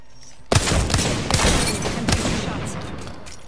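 Gunfire in the Apex Legends video game: a burst of several loud, sharp shots in quick succession, with a few more cracks spaced out after, set against a steady rumble of game noise.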